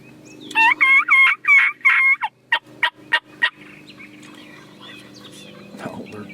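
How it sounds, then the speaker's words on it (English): Several wild turkeys on Tennessee public land gobble in a loud burst of repeated, overlapping calls, followed by a few shorter sharp gobbles, then quieter rustling with faint distant calls. "Because I knew there was turkeys here."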